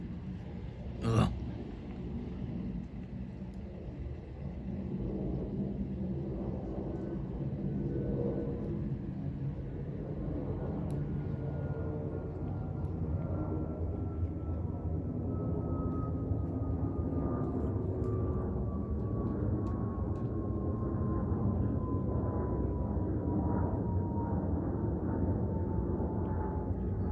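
Korean Air Boeing 777-300ER passing overhead at a residential house, a loud sustained jet roar and rumble with a slowly falling whine, steady for nearly half a minute, a brief sharp click near the start.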